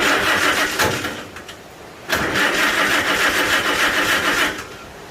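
A Farmall Super A tractor engine is pulled to start: a rough cranking burst, a brief lull, then the engine catches and runs loud and close with a steady chugging roar before easing off near the end.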